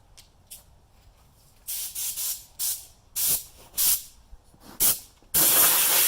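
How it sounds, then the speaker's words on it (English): A compressed air hose blows debris out of a riding lawnmower in a series of short, sharp hissing blasts, then one longer continuous blast, close and loud. "I like to use the air hose and I blow that thing all out"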